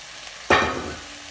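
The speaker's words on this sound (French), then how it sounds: "Et maintenant, on rajoute nos poulpes." Octopus dropped into a hot pan with softened vegetables and stirred, bursting into a sudden loud sizzle that then fades into a steady frying hiss, close by and without talk.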